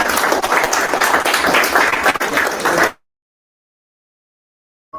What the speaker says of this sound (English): Please, a round of applause for everyone.